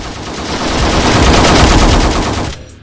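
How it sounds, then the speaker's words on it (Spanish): Loud, sustained machine-gun fire from a firing squad shooting bursts into the sky over Moscow, a dense rapid rattle that runs nearly three seconds before cutting off. "un pelotón de fusilamiento mató simbólicamente a Dios disparando 5 ráfagas de ametralladora contra el cielo de Moscú"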